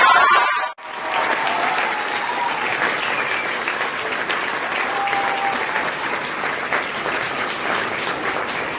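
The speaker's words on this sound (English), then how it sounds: "Can we get a big round of applause for our 7th grade band?" Big, loud round of audience applause for a 7th grade band at a school fall concert, dense sustained clapping that swells after a brief gap and continues evenly for several seconds, with faint crowd murmur underneath.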